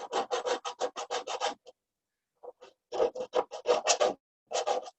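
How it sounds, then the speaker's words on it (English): A half-round jewelry file bevels the inside corners of a bronze ring, giving close, dry rasping strokes in a steady rhythm, a quick run, a brief pause, then two more bursts of strokes. "I'm just using a half round file out of my jewelry file stuff"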